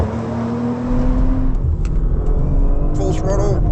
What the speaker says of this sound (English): Full throttle, and it just grips up and goes.